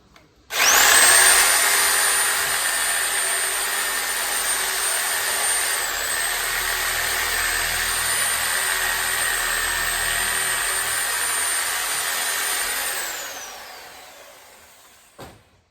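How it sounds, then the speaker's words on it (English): A reciprocating saw cuts through a deer carcass during butchering, one loud continuous high buzzing run of about twelve seconds that starts abruptly and winds down at the end, with no voices over it. "I get my sawzall."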